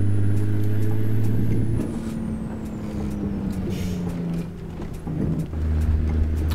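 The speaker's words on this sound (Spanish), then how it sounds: "Es que ese motor suena" A Kenworth T800 truck engine in American Truck Simulator, driving on Colombian streets, gives a deep, steady rumble that drops and rises as the truck shifts gears, with a brief air-brake hiss in the middle.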